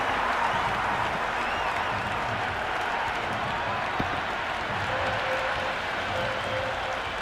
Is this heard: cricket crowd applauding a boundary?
yes